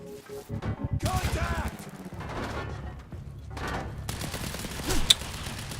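Sniper and other gunfire during a Quantum Break firefight: bursts of shots and impacts come in uneven clusters, with a sharp loud crack near the end and someone speaking in between.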